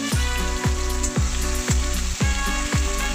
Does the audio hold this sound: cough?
no